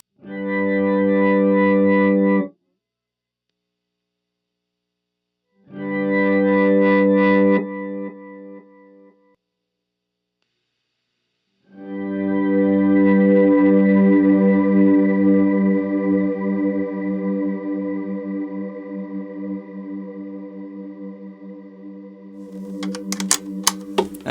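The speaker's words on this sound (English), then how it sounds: "So here's just the pog on that number 2 setting, which is that auto swell thing." Guitar chords swell in smoothly through an octave pedal's auto-swell setting, with a rich, octave-thickened tone: two short swelling bursts, then a long sustained chord slowly fading, with faint clicks at the end.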